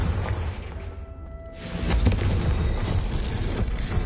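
Confringo fire spell explosion in Hogwarts Legacy: after a quieter stretch, a heavy booming blast erupts about halfway through and rumbles on loudly to the end.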